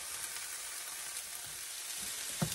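Fresh sliced mushrooms, about a cup and a half, frying in a pan with a steady, soft broadband sizzle throughout, plus a few faint utensil clinks near the end.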